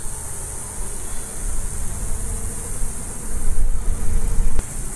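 Honey bees buzz around an open hive frame of capped brood in a failing colony, a loud close drone that swells toward the end, with one sharp tap near the finish.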